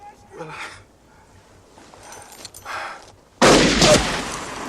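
Gunfire from the 1992 Western film Unforgiven: quiet, muffled film sound and voices, then a sudden loud, booming gunshot blast with a long rumbling tail near the end.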